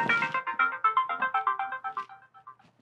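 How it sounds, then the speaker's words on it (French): Mobile phone ringtone for an incoming call, a bright, rapid melodic pattern of repeated electronic notes, loud and close, fading out near the end with no talking over it. "J'avais oublié d'arrêter ma sonnerie."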